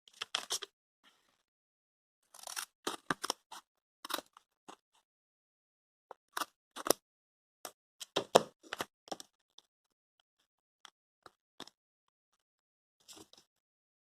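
Scissors cutting through the packaging of a blue Toshiba U202 16GB pen drive, a close series of sharp snips and crackling plastic in irregular bursts separated by short silent pauses.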